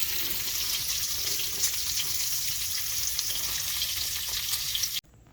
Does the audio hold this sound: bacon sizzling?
yes